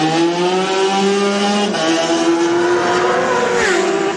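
Honda racing motorcycle launching from the flag drop at the Isle of Man TT, a loud, rasping engine at close range climbing sharply in pitch through the revs, with a brief change near the end.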